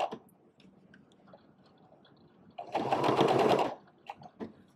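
A sewing machine stitching fabric for baby booties runs in one short steady burst of about a second, after soft clicks and handling noises.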